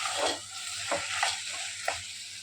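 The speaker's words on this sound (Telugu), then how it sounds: "ఇప్పుడు మనం ఉడికించిన చామదుంపల్ని వేసుకోవాలి. ఇలా 2 నిమిషాలు మగ్గనివ్వాలి." Boiled colocasia (taro root) cooks in a pan with tomatoes for a curry, giving a steady close sizzle with a few brief stirring bursts, and no talking.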